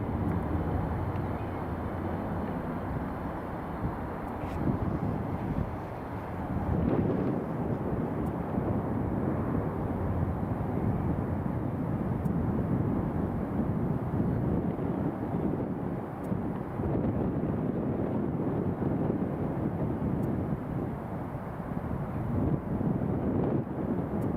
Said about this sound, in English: Next we have the KLM 737-700.